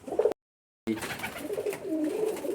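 Rajshahi Giribaz pigeon, a feather-footed breed, cooing up close in a soft, steady run of low calls that briefly cuts out before carrying on.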